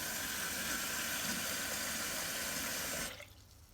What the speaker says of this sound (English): We're going to wash the rice to remove the starch.